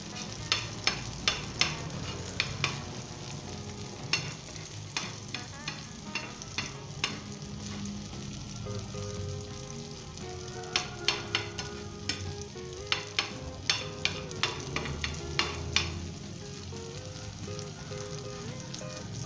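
An omelette frying in oil after being flipped, with a long steady sizzle and frequent sharp crackles and pops of spattering oil, some in quick bursts, moderately quiet and close, no speech.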